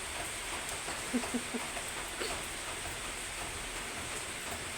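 Rain falling steadily outdoors in the Isan countryside, a soft continuous hiss with faint patter, fairly quiet and even throughout with no talking.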